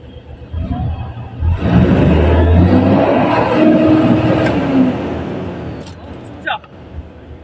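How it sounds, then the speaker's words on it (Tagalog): A Mitsubishi 6M70 diesel engine with a hard-start problem runs smoothly without misfiring, a loud, steady roar that swells as it revs, with people talking over it. "So makikita natin na walang palyado yung makina mga ka-Diesel."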